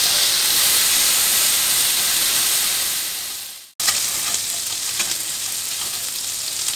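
Garlic paste, ground from seven or eight cloves, sizzles and hisses loudly in a hot pan, a steady fry that cuts off briefly midway and then resumes with stirring scrapes, no voices heard.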